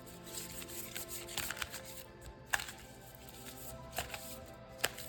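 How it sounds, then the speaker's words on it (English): Soft, close shuffling of a tarot card deck, with irregular papery riffles and sharper card snaps scattered across a quiet background. "shuffle this deck again one more time, and then we can see what else your future boyfriend really is going to bring"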